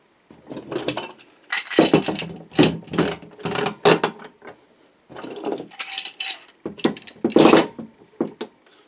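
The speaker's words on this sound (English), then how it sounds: "We're just leaving it sort of hand tight until we have all the clamps in place, and when we do, then we can just tighten up everything then." Clamps on a freshly glued guitar body blank are cranked tight in a quick series of close, loud ratcheting clicks, coming in bursts with short pauses, and nobody speaks.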